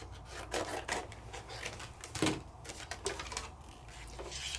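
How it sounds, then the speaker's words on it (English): A die cutting machine cuts a paper wheel with a steady, low mechanical rumble and rubbing, broken by faint clicks and a slightly louder knock near the middle. Nobody talks. "Die cut my wheel first."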